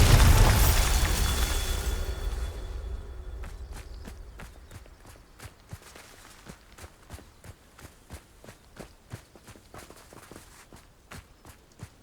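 A loud Bombarda spell explosion in the Hogwarts Legacy video game opens with a heavy blast that slowly decays, followed by a quick run of regular footsteps moving off.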